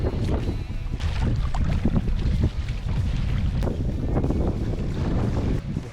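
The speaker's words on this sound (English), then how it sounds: "We keep paddling to Ed's house." Kayak paddling across windy water in Biscayne Bay, with continuous wind buffeting the microphone and splashing paddle strokes throughout, loud and close.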